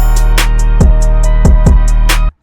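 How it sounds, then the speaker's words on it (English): A riser and crash transition effect from the Memphis Essentials sample kit, pitched down an octave, sweeps loudly over a beat intro with repeated low hits and a cymbal-like burst before cutting off abruptly. "That is the Ghost Riser and the Crash from the Memphis Essentials Kit."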